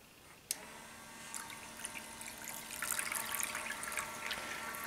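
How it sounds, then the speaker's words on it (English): A short click from the touch sensor button starts the waterfall feature of an Oracle 9000 fountain, and running, trickling water follows and grows gradually fuller and steadier. "The first feature I'm going to demonstrate is the waterfall feature with the touch sensor button."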